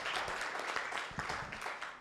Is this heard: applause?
yes